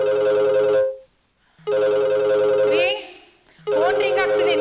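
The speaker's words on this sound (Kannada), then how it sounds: "ಫೋನ್ ರಿಂಗ್ ಆಗ್ತಿದೆ" A telephone in a home rings in repeated electronic bursts, loud and close, with short silent gaps between the rings.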